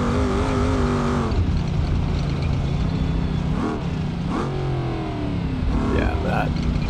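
A toy FCV car, rear-wheel drive, races across the Johnson Valley off-road course in BeamNG.drive, its engine whining loudly and steadily with rising and falling pitch as it accelerates and shifts, a voice talking over it.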